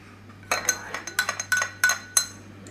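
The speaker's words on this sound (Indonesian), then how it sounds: "Kemudian di sini saya akan langsung tambahkan 1 sendok teh madu." A teaspoon clinking against a drinking glass as honey is added to a herbal cough drink, about a dozen light, bright taps coming in uneven clusters, close and fairly quiet.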